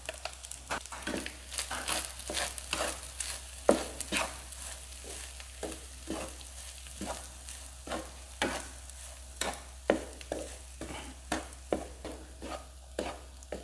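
Mixed egg fried rice is stir-fried in a pan, a spatula scraping and tossing in a steady repeating rhythm over a soft continuous sizzle, close and moderately loud with no talking.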